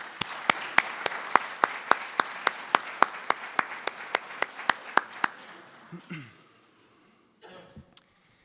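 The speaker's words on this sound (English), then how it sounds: "Could you join me giving a round of applause for our stage party?" Audience applause at a spring 2014 PTK induction ceremony, a run of sharp, evenly spaced claps from a small group that fades out after about five seconds, followed by quiet room noise and a brief shuffle.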